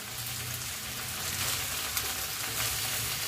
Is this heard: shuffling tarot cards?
no